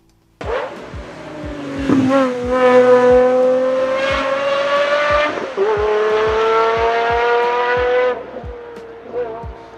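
A Pagani Zonda R and Zonda Revolution race car engine screams through rising gear changes, shrill and loud, with sharp shifts punctuating the climb before it fades.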